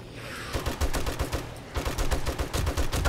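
Rapid automatic gunfire in the zombie survival game 7 Days to Die, with dense bursts of close, punchy shots, a brief pause, then continuous firing again, and no talk.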